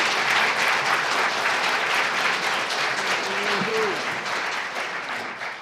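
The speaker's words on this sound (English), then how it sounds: "Let's give these gentlemen a round of applause." A room of people applauds candidates at a candidates' forum, steady dense clapping that holds loud for several seconds, then slowly thins and fades toward the end.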